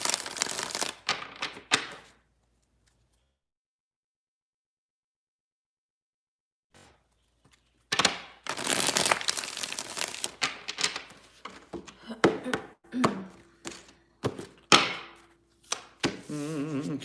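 Tarot cards are shuffled in several crisp, rapid riffling bursts, close and clattery, with a long stretch of silence between the first shuffle and the later ones.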